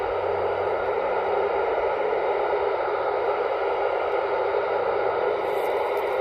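Steady broadband hiss of static fills an amateur radio receiver as the SO-50 satellite signal fades out, loud and unbroken with no voice coming through.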